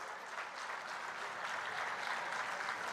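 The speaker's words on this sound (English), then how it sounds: "big round of applause to Satish Reddy garu" Sustained crowd applause at a foundation stone laying ceremony at a science institute, dense and even throughout, heard from a distance with no speech over it.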